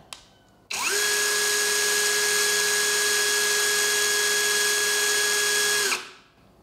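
A Bull BL26Li cordless brushless impact drill runs at low speed, a steady whining motor hum with strong tonal lines that starts abruptly, holds level for about five seconds, then winds down, heard alone.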